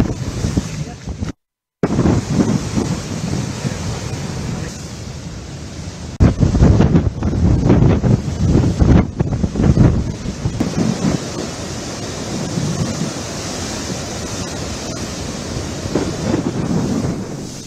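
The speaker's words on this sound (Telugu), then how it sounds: "ఉప్పాడ వద్ద రోడ్డుపై సముద్ర కెరటాలు వస్తున్నాయి" Strong cyclone wind buffets the microphone on the Uppada coast during Cyclone Montha, with sea waves surging onto the road; a continuous loud roar swells into heavier gusts midway, broken by a brief dropout near the start.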